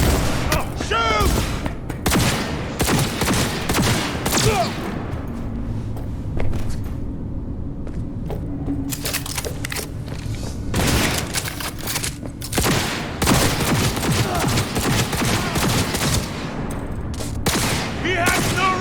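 Rapid gunfire bursts from Cyberpunk 2077 combat fill the scene, with repeated loud volleys and booms layered over a steady game soundtrack rumble, with shouting voices mixed in.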